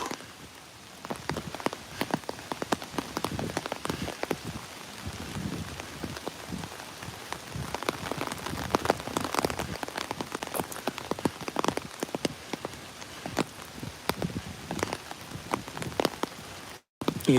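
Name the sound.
rain falling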